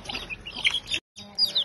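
Small black Karinkozhi chicks peep and cheep in quick bursts close by, with a short silent break before a few more high chirps.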